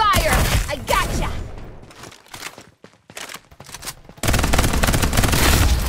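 Rapid automatic gunfire rattles in the battle royale shooter Farlight 84, loud and dense at the start and again in a sustained burst at the end, with a quieter stretch of scattered shots and game noise between.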